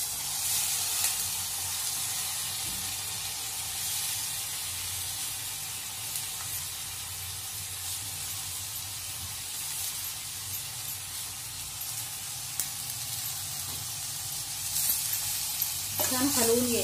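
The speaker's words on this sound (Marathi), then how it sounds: "ही कोबीची भाजी टाकायची आपल्याला।" Shredded cabbage sizzling in hot oil over a low flame while being stirred, a continuous close hiss with scraping stir strokes, and a brief clatter near the end.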